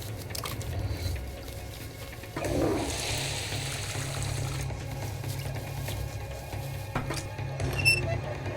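Water runs from a tap in a steady, close splashing rush that swells briefly partway through, with no voices over it.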